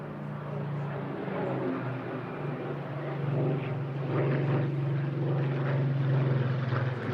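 A propeller warbird flies past at the Eastbourne International Airshow, its steady engine drone and low throb swelling gradually over several seconds, with faint crowd noise underneath.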